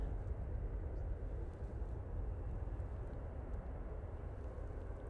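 An aircraft comes in to land at Manchester Airport, a steady low engine rumble and roar that stays constant and fairly distant throughout.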